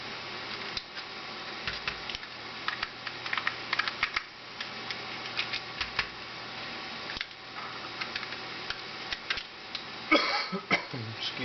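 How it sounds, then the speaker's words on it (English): A screwdriver backs screws out of an Xbox controller at close range, producing small dry clicks and scratchy ticks in an uneven stream, with a louder clattering burst near the end. "So I will remove the 7 screws for you."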